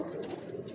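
Ferozpuri and Rampuri pigeons cooing, a soft, brief throaty coo with a low warble, faint and close.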